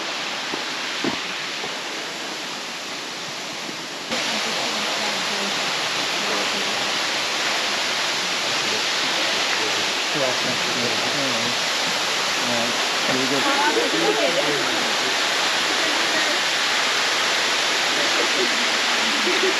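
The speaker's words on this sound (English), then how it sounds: "I've got the beautiful waterfall there behind us" Merrimer Falls roars steadily from an overlook, a broad continuous rushing wash of falling water that grows slightly fuller partway through, with faint voices mixed in.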